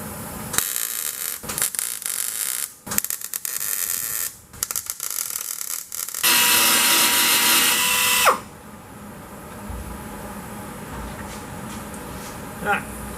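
Tack welding on a Corvair quarter panel repair: short crackling welder bursts with broadband hiss, one sustained loud burst of about two seconds near the end, interspersed with shop noise and quiet gaps.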